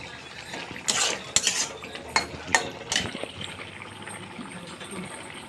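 A spoon stirring a cooking pot after a spoonful of garam masala goes in, with several sharp metallic clinks and scrapes against the pot in an irregular rhythm, close and clear with no talking.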